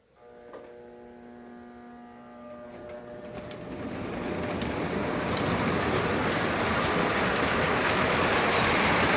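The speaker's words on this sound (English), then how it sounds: "let's run a train, shall we?" A small train starts up and rolls steadily, its rumble and clickety-clack growing louder; a brief tone sounds near the start.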